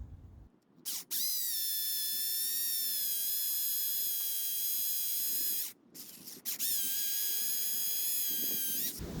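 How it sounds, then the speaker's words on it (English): A hammer drill with a masonry bit drills into stone, whining loudly in two runs, a long one then a shorter burst after a brief pause, its motor pitch holding steady. "I'm going to use a hammer drill with masonry bits and drill some holes"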